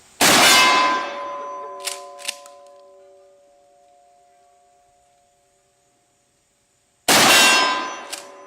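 A shotgun slug fired from a Mossberg 500 strikes a metal gong outdoors, giving a loud clang with a long, fading metallic ring. A smaller knock sounds as the ring decays, and a second loud clang comes after several seconds of quiet.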